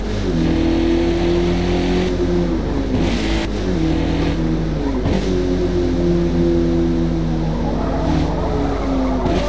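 A Mazda race car in Forza Motosport on the Laguna Seca circuit roars loudly throughout with droning, shifting engine tones and brief tire squeals.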